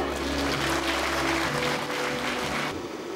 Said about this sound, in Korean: 여러분 박수로 모시겠습니다